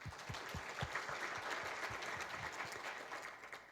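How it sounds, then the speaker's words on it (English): Applause from a conference audience at a spring networking meeting: a continuous, fairly distant wash of many hands clapping that holds steady and eases slightly at the end. "I think we should all give Rob a really big applause"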